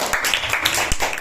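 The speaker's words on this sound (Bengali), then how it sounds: "হাততালি" Brief burst of clapping from students in a classroom, a short scattered patter of hands lasting about a second, fairly close and moderately loud.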